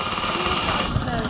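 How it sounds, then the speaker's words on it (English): An electric fuel pump on a diesel fuel system whirs steadily while sucking air, a continuous buzzing mechanical drone at close range. "That's basically the pump sucking air."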